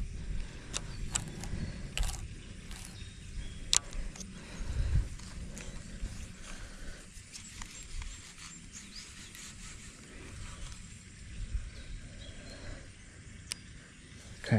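A Shimano Antares DC baitcasting reel is being cranked, giving faint, irregular mechanical clicks and ratcheting ticks over quiet background noise, with no voices heard.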